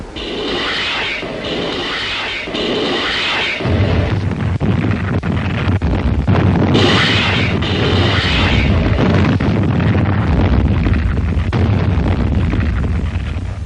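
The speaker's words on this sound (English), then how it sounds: "Just before the landing, the rocket ships went to work." A barrage of rocket-ship blasts bombarding invasion beaches before a landing: rapid, rumbling explosions roll one into another, loud and continuous with a deep, roaring boom underneath.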